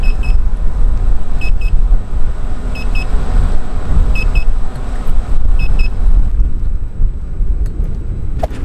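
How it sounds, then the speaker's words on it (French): Short paired electronic beeps from a Gotway Monster electric unicycle, triggered by a phone app, sound at regular intervals over steady rumbling wind and traffic-like noise outdoors, then stop toward the end. "je fais que de faire biper la roue à Justin grâce à l'application EUC World"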